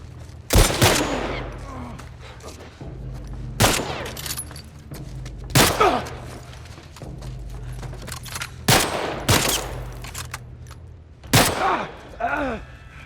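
Gunfire in The Last of Us Part I, sharp loud shots fired singly and in short bursts at irregular intervals over a steady low background hum, with the reverberant tail of each shot trailing off.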